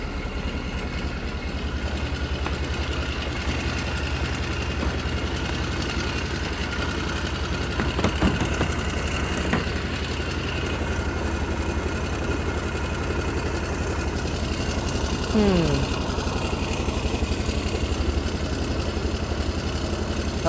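Side-by-side utility vehicle engine idling steadily in a salvaged machine with a temperature warning light on, a constant close rumbling hum for about twenty seconds with a few faint clanks and no talking.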